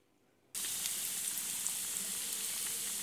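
Chicken coated in flour after a milk-and-water dip, frying in hot oil over low heat, a steady close sizzle and crackle that starts abruptly after a half-second of quiet and continues evenly.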